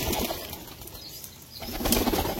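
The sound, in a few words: pigeons flapping and eating feed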